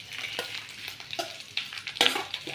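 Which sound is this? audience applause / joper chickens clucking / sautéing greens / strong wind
sautéing greens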